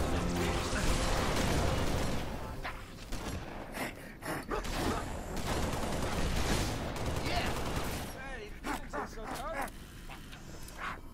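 Heavy gunfire in the video game Halo Reach, bursts of shots and mechanical clatter rattling through a busy battle mix, with voices talking over parts of it.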